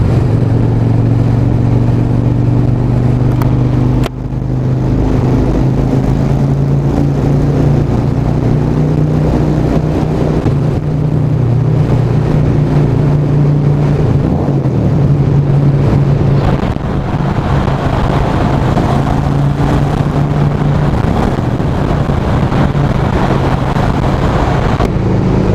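A loud, steady motorcycle exhaust drone booms and reverberates inside a one-kilometre road tunnel, holding a continuous throaty rumble with no talking.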